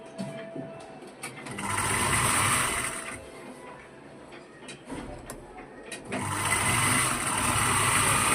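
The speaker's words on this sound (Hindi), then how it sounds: "इसके शोल्डर्स को भी हम सिल लेंगे।" A sewing machine stitches the shoulders of a simple kurti in bursts of fast rhythmic whirring, close and fairly quiet, with short pauses and light handling clicks between runs.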